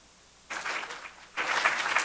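Two bursts of audience applause at a school board meeting, a short one followed by a louder, fuller round after a brief pause, with no talking over it.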